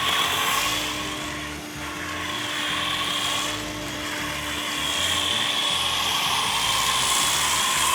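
Pressure washer running on its turbo setting, a loud steady high-pitched whine and motor drone that swells and dips slightly as pressure builds.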